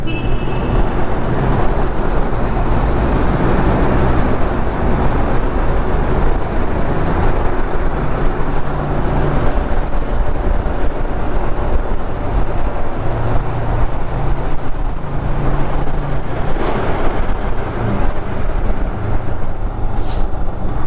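A vehicle drives along a mountain road into a small tunnel on the ride from Siliguri toward Gangtok in East Sikkim. A loud, constant engine and road roar fills the clip with no voices.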